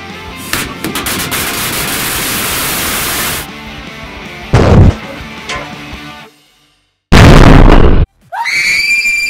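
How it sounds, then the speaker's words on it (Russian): Several loud, booming blasts with broadband noise, separated by brief pauses and near-silence, the last burst cutting off abruptly. "Ну и, конечно же, много красивых взрывов."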